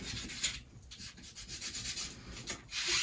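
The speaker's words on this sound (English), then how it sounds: "I take some very fine sandpaper and I file it a little bit more so it's smoother" A silver ring made from an antique spoon is rubbed with very fine sandpaper, giving close, uneven scratchy strokes in a repeating back-and-forth rhythm.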